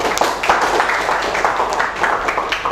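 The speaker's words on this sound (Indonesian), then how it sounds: "beri tepuk tangan sekali lagi" Applause from a class of students during a classroom lesson: a steady patter of hand claps with a few sharper bursts, fairly near and continuous, with faint voices mixed in.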